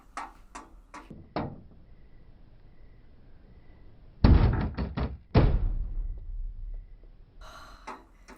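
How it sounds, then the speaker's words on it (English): Loud, heavy knocks on a door in The Haunting of Hill House come in sharp clustered bursts, a few scattered raps first and then two rapid volleys of pounding, with quiet between. "Knocking shouldn't be this scary, but it really is."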